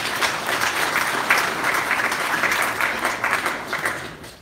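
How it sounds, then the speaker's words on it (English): An audience at a UK farming discussion applauds with a steady wash of clapping that holds for several seconds and then tapers off at the end. "can I just applaud what you've just said?"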